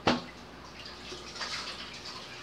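Clothes being hand-washed in a basin of water, with a sharp splash at the start followed by soft sloshing, dripping and swishing of wet fabric nearby.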